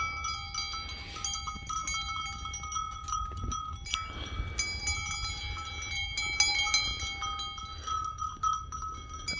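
Rams and sheep jostle at a feed station, with clanking metal and bell-like clinks, bumping thuds and scattered animal sounds in irregular bursts, fairly close.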